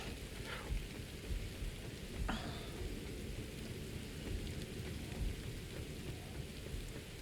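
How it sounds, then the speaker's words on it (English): Rain and thunder in the video game Satisfactory: a steady, dense rain hiss fills the scene, with a few low thunder rumbles rolling underneath and no talking. "this is the second time in this game that it's rained"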